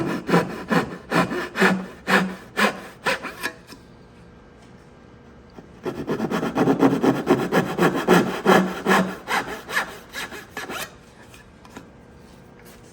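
A hand saw cuts wooden dovetails with quick, rhythmic back-and-forth rasping strokes in two bursts separated by a short pause, close and clear with no talking.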